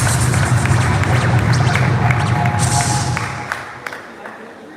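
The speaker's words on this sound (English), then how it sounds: "Give her a round of applause." Crowd applause at a PNP party annual conference in a primary school hall, a dense, loud wash of clapping with some cheering that fades toward the end, a few sharper claps standing out as it tails off.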